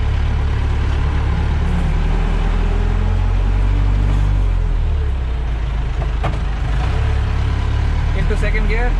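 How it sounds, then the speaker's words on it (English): A Mahindra Maxi Cab school van pulls away in first gear, its engine a steady, close, low rumble that rises slightly as it accelerates. Someone talks throughout over the engine. "Into first gear to see how the vehicle performs."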